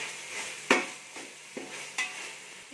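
Tomatoes with garlic paste and a little salt being sautéed in a pan, heard as a soft background sizzle broken by a few distinct stirring scrapes and clicks of the spoon against the pan.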